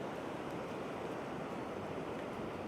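Ocean waves wash onto the white sand of Klong Prao Beach on Koh Chang island in a soft, continuous morning surf, faint and steady with a light wind rush and no voices.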